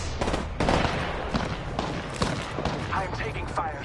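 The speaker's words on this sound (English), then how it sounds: "I'm spotted, taking fire." Rapid gunfire in the video game Apex Legends, repeated sharp bursts over a steady loud battle mix, with a character voice speaking over the shots.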